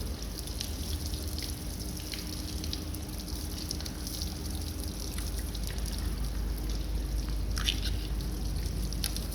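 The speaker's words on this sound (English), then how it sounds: "We'll isolate the valve again and allow the air pod to drain everything that we've just filled in there with it." Water drains from the air pod of a combination air valve after the valve is isolated again, a steady trickling, dribbling flow with scattered drips, fairly close and continuous throughout.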